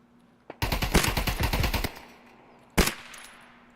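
Video game gunfire: a single shot, then a rapid automatic burst of about a second and a half, followed by one more sharp shot, loud and close over a low steady hum.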